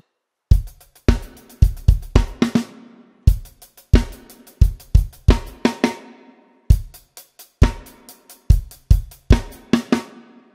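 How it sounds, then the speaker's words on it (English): A drum kit plays the fill leading into the second verse of a song, close and loud, with sharp cymbal and snare hits in rapid repeating bursts separated by short pauses. "Now the fill just before verse 2 sounds like this."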